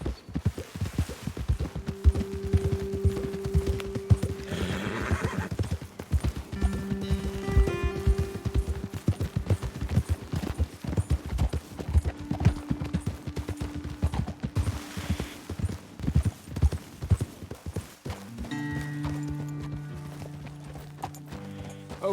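Horses' hooves clip-clop steadily in Red Dead Redemption 2 as riders move along a trail, the rhythmic footfalls close and continuous, with a brief whinny and game music tones over them.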